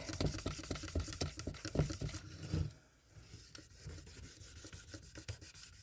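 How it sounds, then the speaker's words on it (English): A vintage yard-sale find is burnished by hand with quick, steady back-and-forth rubbing strokes, close and fairly quiet, pausing briefly before the rubbing resumes more softly. "And I'm burnishing it in here."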